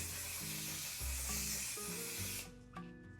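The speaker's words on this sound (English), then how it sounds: "I'm going to also just set everything in with the One Size Mattifying Waterproof Setting Spray" One Size Mattifying Waterproof Setting Spray mists onto skin in a long, close hiss of about two and a half seconds, stopping abruptly and followed by a brief softer puff over faint background music.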